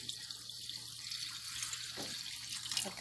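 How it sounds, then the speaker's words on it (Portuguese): Water pours steadily into a cooking pot holding fish for a braised fish dish in cream sauce, a continuous close splashing rush lasting a few seconds with no talking. "Agora a gente vai completar de água."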